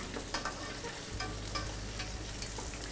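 Flour-dredged monkfish fries in a hot pan, a steady dense sizzle and crackle with a few stirring scrapes, close and continuous, no voices.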